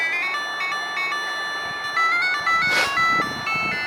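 Electronic beeping melody of square-wave tones from a Casio handheld LCD game, stepping through a simple tune, with a brief noisy burst partway through over faint background hiss.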